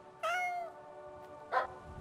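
A cat in the puzzle video game The Witness gives two short, clear meows, the first longer and the second briefer, alone against a quiet background.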